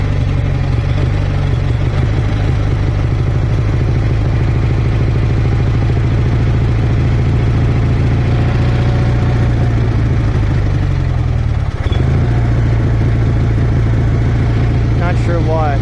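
A Craftsman II garden tractor engine with a faulty carburetor idles roughly, a loud, close, continuous low rumble with uneven lumpy firing and a brief stumble partway through.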